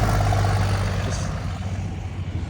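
A car's exhaust rumbling just after a drag race against a Dodge, a loud, close, low engine drone that settles and wavers slightly as it idles, with no talk.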